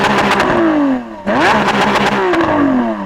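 A Lamborghini Aventador SVJ V12 revs loudly and up close, its pitch climbing and falling in a sweep, dipping briefly, then rising again in a second surge.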